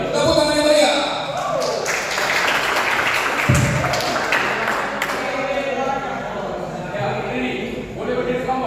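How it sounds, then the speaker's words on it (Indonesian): Seminar audience of students at an HKBP church retreat in Indonesia clapping and cheering, a busy, close round of applause with tapping and shuffling, voices mixed in throughout. "Tepuk tangan yang meriah."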